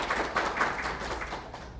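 A seminar audience at a Busan resort tutorial claps in welcome, a soft, dense patter of hands at moderate distance, steady for under two seconds with no voices.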